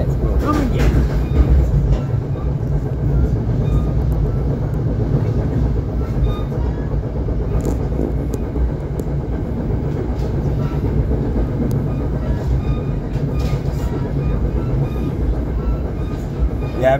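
A passenger train riding on its rails, heard from inside: a loud, continuous low rumble with rhythmic clickety-clack of wheels over track joints throughout, and faint voices now and then beneath the noise.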